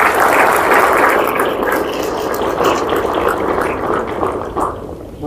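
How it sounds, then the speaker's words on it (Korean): An audience at an international academic conference applauds, a dense, loud, sustained wash of clapping that fades slightly toward the end, with no voices over it. "다시 한번 큰 박수"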